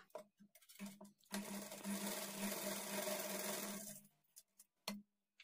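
A sewing machine stitches a blouse lining onto the main fabric at the front, running in one steady, close burst of about three seconds, with quiet handling noises before and after.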